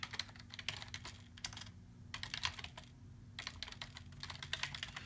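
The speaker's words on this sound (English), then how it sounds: "I'm going to type here in the comments." Fast typing on a computer keyboard comes in steady runs broken by short pauses, heard close over a constant low hum.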